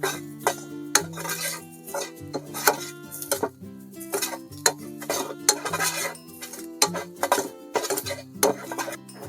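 Coconut and onion roasting in a pan on a wood-fired stove, heard as busy, rhythmic metallic scraping and clinking of a utensil against the pan, close and continuous with no sizzle to speak of.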